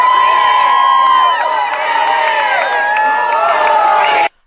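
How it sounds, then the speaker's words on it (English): Cheering rally crowd at a President Trump event in Pennsylvania, a loud sustained roar of many voices with whoops and shouts that holds steady and then cuts off abruptly near the end. "It's 44 seconds of people just cheering like that"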